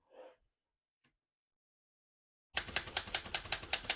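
Typing on a 1941 Remington De Luxe Model 5 portable typewriter: after a soft breath and a long pause, a quick, steady run of about ten sharp, close keystrokes clacks out alone.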